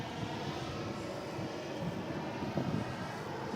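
An airliner departing at Melbourne Airport gives a steady, broad engine roar heard from a distance, fairly faint and unbroken, with slight wind buffeting and no talking.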